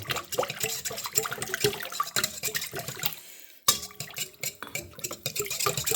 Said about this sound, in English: I'm going to whisk this together. Make sure I break the yolk of that egg.